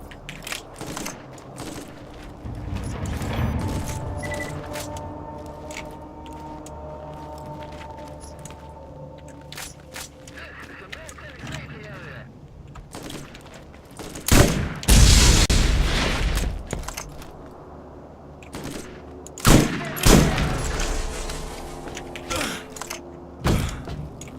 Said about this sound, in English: Explosive let-off machine gun?